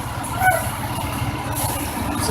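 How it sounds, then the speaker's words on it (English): A Rosenbauer ladder fire truck of Fire District 43, Goodwill of Flackville, rolls by in a firemen's parade in Schuylkill Haven, its engine a steady low rumble beneath street crowd noise, with a brief brake hiss near the start. "Fire District 43, Goodwill of Flackville, with the Rosenbauer ladder truck"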